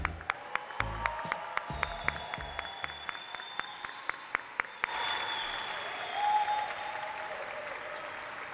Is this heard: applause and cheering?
yes